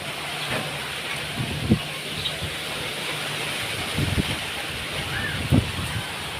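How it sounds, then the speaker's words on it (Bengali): A steady, hissing rush of strong storm wind outside a farm, broad and continuous at moderate loudness, with a few low thumps and knocks breaking through now and then. "ওই দেখেন কি পরিমাণ ঝড়ো বাতাস বইতেছে বাইরে।"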